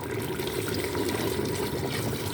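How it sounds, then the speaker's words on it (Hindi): Water pours steadily into a cooking pot of browned mutton and apple gourd (tinda) to make shorba, a continuous close rushing splash with no talk. "अब हम इसमें शोरबा बनाने के लिए"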